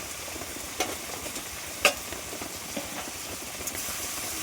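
Fish curry with salt and cumin paste is stirred in a pan over a soft continuous sizzle, with a few light scrapes and one sharper clack of the spoon against the pan.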